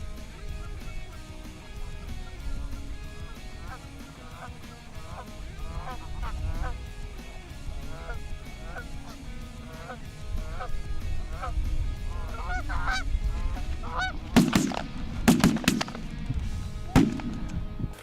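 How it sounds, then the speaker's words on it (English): A flock of geese flying in along a river honks repeatedly, distant calls at first that grow louder and more crowded as the birds approach, with sharp bursts of noise near the end. "this group of geese that we've watched for 5 minutes move down the river has suddenly heard his calling"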